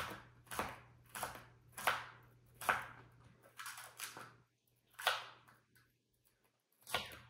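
A knife slices celery thin on a cutting board, giving a steady series of crisp, close chops about two-thirds of a second apart, then a short pause and a few final cuts.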